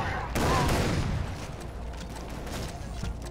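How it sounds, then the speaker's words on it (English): A shotgun blast fires in the video game Far Cry Blood Dragon, a loud booming shot with a reverberant tail that fades slowly across a few seconds. "Ooh, a shotgun now."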